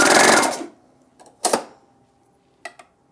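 A Baby Lock Acclaim air-threading sewing machine gives a loud half-second blast of air as it threads, then short mechanical whirs and a couple of faint clicks, close and without talking.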